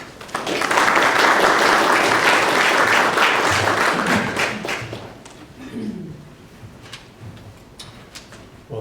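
Audience applause welcoming the dean, Dr. David Haldeman, at a workshop's opening session: dense clapping for about five seconds, then thinning to a softer patter with a few scattered claps.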